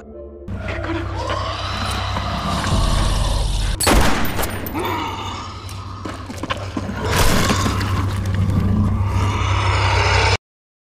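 Gunfire in a zombie film as characters shoot at attacking zombies, dense loud bursts and cracks over a constant low rumble, with a sharp blast about midway and a chaotic soundtrack throughout.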